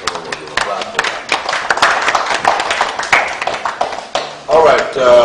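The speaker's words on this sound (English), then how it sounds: "I thought someone would give a clap for that." An audience claps in a brief, scattered burst of hand claps that sounds close and fairly loud, without cheering.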